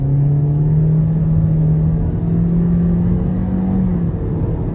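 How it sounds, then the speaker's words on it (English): A 2019 Toyota Corolla LE engine pulls steadily under acceleration from inside the cabin, a continuous droning hum whose pitch climbs slowly, with road rumble beneath and no talking. "I'm very impressed by the overall power you're getting from this engine."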